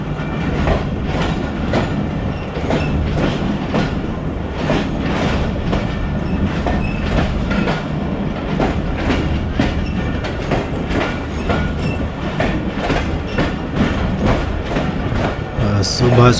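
The Pakistan Express passenger train runs steadily on rails between Abdul Hakim and Shorkot, with continuous loud rumbling and rhythmic clickety-clack of wheels over track joints, heard from inside the moving carriage throughout.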